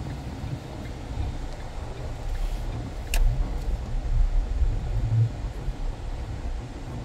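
A car idles and creeps in stop-and-go traffic in the Ingleses neighbourhood of Florianópolis, a low steady engine rumble from inside with a brief sharp click partway through.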